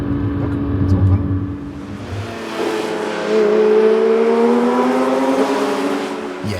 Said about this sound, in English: no headphones or sound system can come close to reproducing the GT3 RS's sound